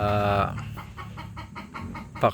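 Chickens cluck in short, repeated bursts after a brief harsh call at the start, fairly close, with a sharper squawk near the end.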